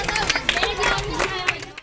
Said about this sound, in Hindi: बहुत अच्छे, माशाल्लाह, जोरदार तालियां इसके लिए।